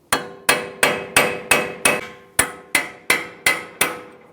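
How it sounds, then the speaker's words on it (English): A hammer strikes a punch to drive a CV axle through the wheel hub of a 2012-2022 Ford Focus, eleven sharp metallic blows in a steady, even rhythm, close and loud, with no talking. "let's get a punch and a hammer and punch it through"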